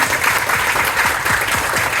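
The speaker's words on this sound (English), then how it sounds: "give all those people a round of applause for their service to this great organization" An audience claps continuously at an organization's gathering, a dense even wash of many hands applauding at steady loudness throughout.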